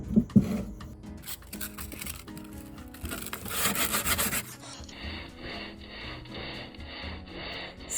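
Wood sanded by hand for a rustic wooden cake stand: steady, close rasping strokes, rough and continuous, with scratchy surges as the paper drags across the grain.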